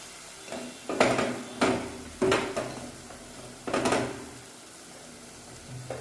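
Curry stirred in a pan for a fry made with chillies ground with salt, giving several distinct scraping, clattering spoon strokes against the metal at an uneven pace, close and fairly loud with quiet pauses between.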